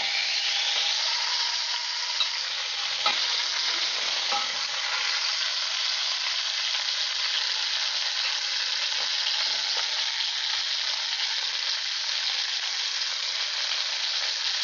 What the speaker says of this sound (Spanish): Está dorando muy bien la carne.